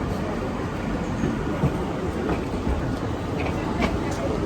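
A train riding on rails, heard from inside the carriage as a steady loud low rumble and roar with faint clicks, continuous and even.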